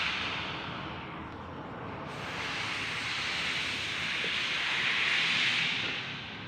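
Sinigang soup with hasa hasa fish comes to a boil in a pot, giving a steady, close hiss and rushing bubble that swells slightly over several seconds, with no talk.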